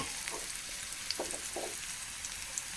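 Eggplant pieces sizzle in hot oil in a pan with crushed chilli, a soft, continuous crackle dotted with small pops and light stirring, fairly quiet and close.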